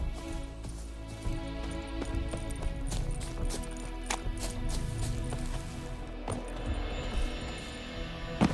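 Horse hooves clip-clopping steadily in the video game The Witcher 3, a continuous run of hoof strikes under a dense game soundscape with low music, moderately loud throughout.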